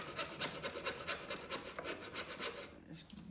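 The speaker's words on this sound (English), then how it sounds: "He opted for the hand saw instead of all these power tools." A hand saw rasps back and forth through wood in quick, regular strokes, close by, then stops near the end, during farmhouse construction.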